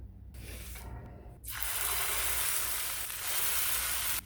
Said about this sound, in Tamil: தோசைக்கல் வச்சுட்டு எண்ணெய் தடவிக்கலாம்